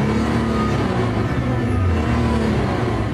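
A Nissan GT-R engine runs on a dynamometer test bench during its very first start-up, giving a steady, loud mechanical drone with a low rumble and slight shifts in pitch, close by and with no talk.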